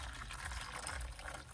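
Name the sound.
water being poured into a container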